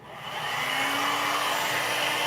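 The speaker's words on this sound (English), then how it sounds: "So we're going to go back to the blow dryer." A blow dryer used to heat RSO, its airflow spinning up in the first half second into a steady, loud whooshing hum with a faint motor whine beneath.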